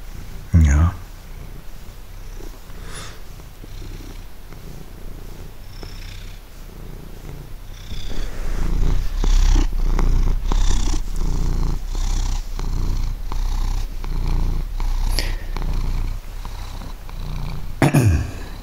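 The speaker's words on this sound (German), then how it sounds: "mein Kater liegt hier gerade so schön auf dem Schoß" A tomcat lying on a lap purrs in a low, steady rumble close to the microphone, growing louder partway through, while someone speaks softly over it now and then.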